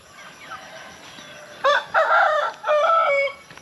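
Hens and a rooster on a small Philippine farm, soft scattered clucking at first, then a loud, close rooster crow in several drawn-out bursts near the end.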